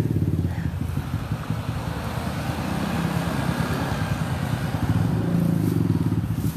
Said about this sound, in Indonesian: Awas-awas motor, nggak boleh ke jalan.